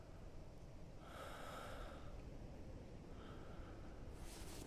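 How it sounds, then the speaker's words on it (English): Injured driver in a first responder video game breathing in two raspy, breathy inhales and exhales against a low, steady rumble, faint and close. "So he's breathing."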